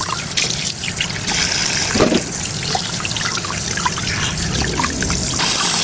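Anchovies being washed under a running tap, water pouring and trickling steadily close up, with splashes and dribbles as the small fish are rinsed, loud and continuous, no talk.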